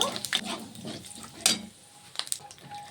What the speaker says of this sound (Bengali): এই তেলের মধ্যে দিয়ে দেবো একটা শুকনো লঙ্কা, দিয়ে দেবো একটু পাঁচফোড়ন।